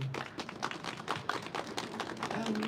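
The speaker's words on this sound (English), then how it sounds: "they deserve a big applause, really." An audience at a medical workers' event on Gaza clapping together, a brisk patter of individual hand claps blending into moderate applause, fairly close, with no talking over it.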